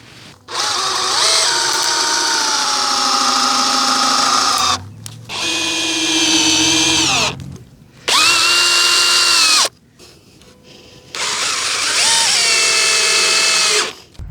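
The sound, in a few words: power drill driving screws into wooden table frame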